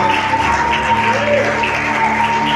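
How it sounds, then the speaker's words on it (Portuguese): A church congregation applauding during worship, a steady wash of clapping under a sustained tone and faint voices. "Aplauda ao Senhor."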